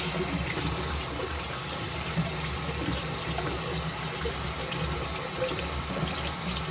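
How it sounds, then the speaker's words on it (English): Water runs steadily from a kitchen tap as acid is rinsed off a craft piece, a loud, close, continuous splashing stream with no speech over it. "I'm just going to wash it off"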